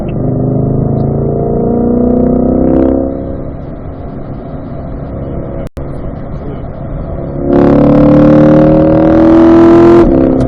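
A Chevrolet C8 Corvette on a race track, its engine droning steadily and then surging into a loud, rising acceleration roar with shifting pitch, heard close from inside.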